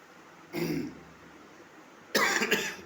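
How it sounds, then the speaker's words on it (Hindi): Two short coughs, a soft one followed by a louder, harsher one about a second and a half later, in a quiet room. "पता नहीं खांसी क्यों आ रही भाई आज।"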